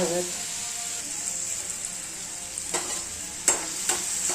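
Onions frying in a pan until brown, a steady hiss of sizzling oil close up with a few scraping stirs of a spoon near the end, and no talk.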